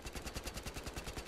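Rapid automatic gunfire in the video game Battlefield Hardline, a short burst of about a dozen evenly spaced shots in quick rhythm, heard alone.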